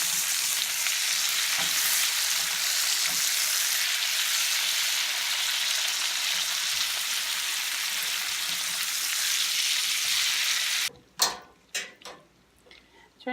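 Bacon frying in a pan for a BLT, a loud, even crackling sizzle lasting about eleven seconds, then cut off by a few sharp knocks and handling sounds.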